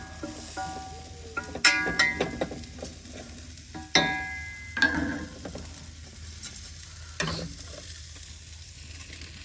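Chorizo sizzles steadily in a pan over an outdoor fire, with scraping and stirring clatters of a utensil and occasional metallic knocks punctuating the frying hiss.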